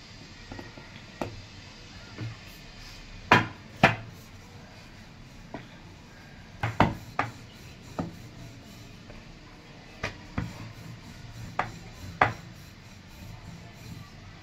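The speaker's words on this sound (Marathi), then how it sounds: "कणकेचा एक गोळा काढून घेऊन चपाती आपली लाटून घ्यायची। लाटून घेते।" Wheat chapati dough being rolled out with a rolling pin on a board in a Maharashtrian home kitchen: quiet soft rubbing, broken by a dozen scattered sharp knocks and taps as the pin rolls and turns.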